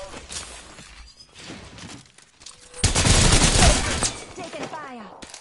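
Weapons fire in the Apex Legends video game, scattered shots at first, then a loud, sustained volley of rapid gunfire in the middle, easing into fainter pops.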